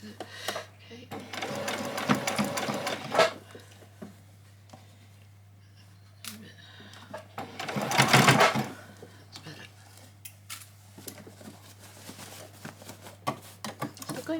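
A sewing machine stitches through several layers of fabric for a child's dress, its rapid mechanical chatter running in bursts of varying length, loudest near the start and again midway, while a person talks over it.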